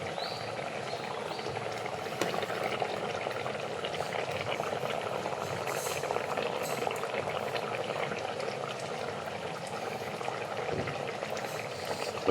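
A sardine curry with curry leaves and coconut oil boils in a pot, giving a steady close bubbling and simmering that runs unbroken with no speech over it.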